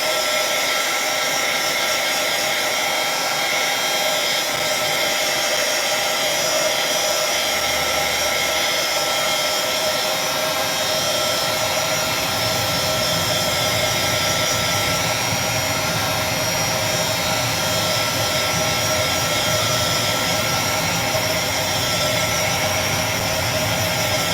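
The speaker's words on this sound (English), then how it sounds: "If you want to take your heat gun and just a little heat, dry it." A heat gun blows steadily for the full stretch while drying an inked craft background, a continuous loud whooshing roar with a slight deepening partway through and no talking.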